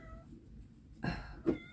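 A quiet room tone gives way to a couple of brief, faint cat meows near the end, short and close.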